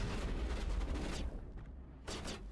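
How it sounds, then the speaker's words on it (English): Gunfire in the video game Mass Effect Legendary Edition: a dense, booming volley of shots that fills the first second, then a short lull and another loud burst near the end, with no talking over it. "I'm gonna shoot this thing"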